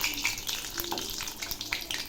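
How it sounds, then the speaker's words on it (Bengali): Pumpkin leaf fish fritters sizzle steadily in hot oil in a pan, a close, continuous crackling fry with small pops and no talking. "এখন ঘুরিয়ে ফিরিয়ে ভেজে নেব।"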